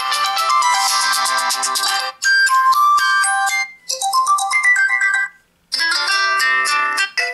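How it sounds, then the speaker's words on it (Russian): Flyme ringtone on a Meizu U10 or U20 smartphone played through its bottom speaker, a bright melodic tune in several phrases separated by short silences, loud and clear with no talking. "вот он звук, рингтон, Flyme."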